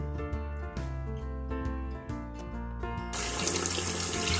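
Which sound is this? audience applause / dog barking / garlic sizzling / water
water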